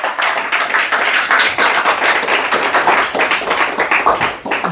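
A church congregation claps and applauds together in praise, a dense, steady patter of many hands sustained close by for several seconds with no pauses.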